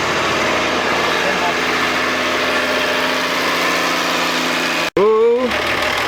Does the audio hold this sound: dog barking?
no